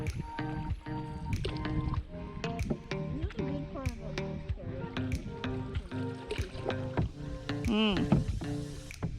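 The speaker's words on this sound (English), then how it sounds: "getting that paddle in the water there, nice and deep" Canoe paddle dipping into lake water in Algonquin Park, a series of soft splashes and drips under steady talking, with other sounds running through much of the clip.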